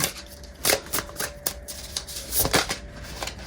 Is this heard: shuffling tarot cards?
yes